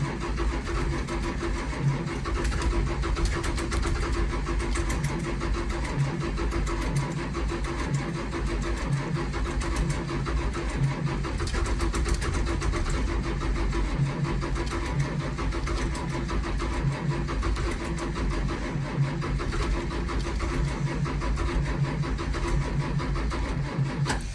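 A cold bus engine cranks and starts, a steady low-pitched churning and rumble running continuously and fairly loud throughout with no voices.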